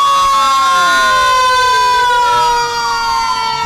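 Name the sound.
siren of an airport rescue fire truck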